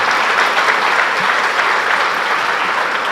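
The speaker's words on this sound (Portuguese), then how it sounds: "Eu quero que você aplauda mais uma vez" A church congregation claps together in a dense, even wash of applause, loud and sustained without letup for a few seconds.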